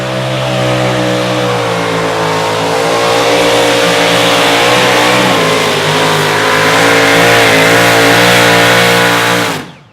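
Outlaw two-wheel-drive pulling truck at a Saturday night pull in Rock Valley, its engine roaring loud and close at full throttle, the pitch wavering and climbing under heavy load before cutting off abruptly.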